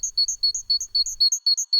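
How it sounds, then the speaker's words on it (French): A small bird sings rapid, high chirps in a fast run, almost all on one repeated note, clear and close. "Là, l'oiseau chante plus vite et on n'entend presque qu'une seule note."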